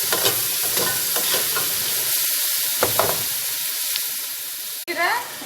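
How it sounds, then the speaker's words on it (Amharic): Garlic and ginger frying in a pan, giving a loud, continuous sizzle with occasional scraping stirs, close up, with a brief drop in sound just before the end. "ዝንጅብልና ነጭ ሽንኩርት ጨምሬ እንደዚህ አቅላላዋለሁ"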